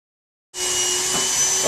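An HSK plastic welding extruder for HDPE starts after a moment of silence, then holds a steady, loud, close mechanical whir and blowing hum with a constant faint tone, with no one speaking.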